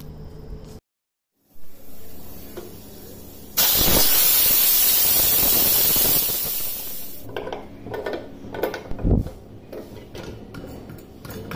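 A loud, steady hiss of steam bursts from a pressure cooker for a few seconds, then gives way to quieter kitchen clatter and soft clinks.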